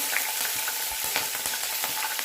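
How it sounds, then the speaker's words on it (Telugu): Green chilies frying in about four tablespoons of hot oil for an egg curry with tender tamarind leaves, a steady close crackling sizzle with small spitting pops throughout, no voices. "ఆయిల్ వేడెక్కింది ఇప్పుడు పచ్చిమిర్చి వేసుకోవాలి"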